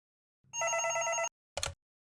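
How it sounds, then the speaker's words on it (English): An old-fashioned telephone bell rings in one sustained metallic trill, then a short second burst after a pause, loud and alone against silence. "It started with a phone call."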